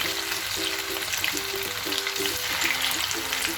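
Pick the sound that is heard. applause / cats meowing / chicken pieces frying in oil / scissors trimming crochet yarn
chicken pieces frying in oil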